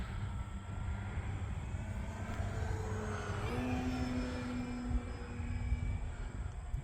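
A Pitts aerobatic biplane climbs into the wind with a steady, distant propeller drone under constant wind roar, the engine note rising in pitch partway through.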